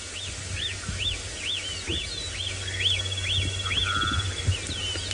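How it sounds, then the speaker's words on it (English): Small birds call at sunrise during a safari drive, repeated rising chirps in a steady series with a few other calls mixed in, moderately close over a low engine-like hum and quiet bush ambience. "All the little birds calling."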